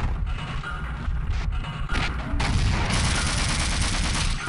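An AR grenade launched in Half-Life, heard as a sharp bang followed by crashing blast noise and loud, dense gunfire-like bursts, with no talk over it.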